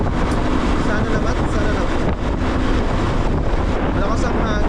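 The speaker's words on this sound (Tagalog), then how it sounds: "lakas ang hangin" Strong wind buffets a microphone on a moving vehicle, a loud continuous roaring rumble with constant gusty texture through the whole stretch, someone talking partly under it.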